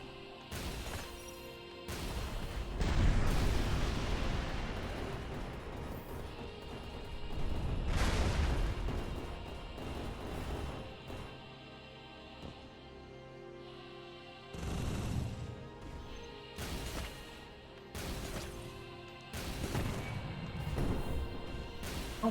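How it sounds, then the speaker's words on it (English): Heavy mortar blasts from the video game Dolls Nest boom repeatedly, with crashing impacts and rumbling explosions spaced unevenly over a steady background of game noise and machinery hum. "Those fucking fast mortars."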